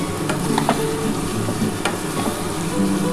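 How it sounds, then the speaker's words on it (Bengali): Potatoes and spices stir-fried in a pan for a duck egg curry give a continuous loud sizzle with a few clattering spatula scrapes. The sound is close up and there is no speech. "এটা এবার ভালো করে কষাতে হবে আলুটার সাথে খুব ভালো করে কষিয়ে নিতে হবে"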